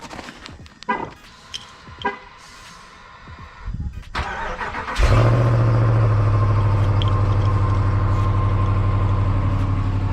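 RAM 2500 Power Wagon cold-starting on a frigid minus-ten morning: a few clicks and thumps, a quick crank, then the engine catches with a loud roar and settles into a steady, deep rumbling idle close by.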